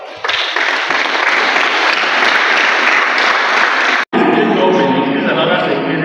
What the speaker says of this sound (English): We please clap for ourselves.